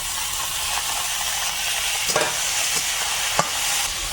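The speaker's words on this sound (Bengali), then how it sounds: "এটা একটু হালকা ভেজে নিয়ে এবারে এর মধ্যে দেবো টমেটো আর কাঁচা লঙ্কা" Crushed garlic frying in a pan, later joined by tomato and green chilli, makes a loud steady hiss of sizzling oil, nearby, with a few brief stirring scrapes, no one talking.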